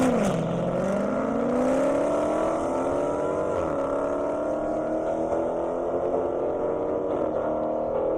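A Dodge Challenger and a Hellcat accelerate hard in a half-mile airstrip drag race, their loud engine roar climbing steadily in pitch and filling the whole stretch without a break.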